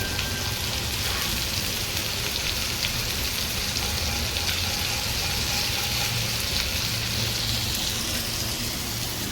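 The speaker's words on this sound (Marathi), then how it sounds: "कमी तेलामध्ये फ्राय करायची आहे ही कोळंबी" Prawns frying in a little oil give off a steady, dense sizzle and crackle that runs unbroken from start to finish, fairly close and even in level, with no voices.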